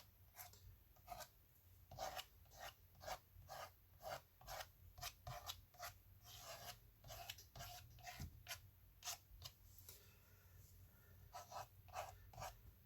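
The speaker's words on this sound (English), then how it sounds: "Could you just use the cards to scrape branches in?" A plastic card's harsh edge scrapes branch shapes into wet watercolor paint on paper in a landscape painting, giving a quick series of short, rasping strokes in a steady rhythm, close and fairly quiet.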